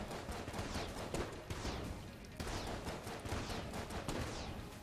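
Dense, continuous bursts of rapid gunfire from the bullet-hell dungeon shooter Enter the Gungeon, a steady barrage of shots at moderate loudness with no pauses.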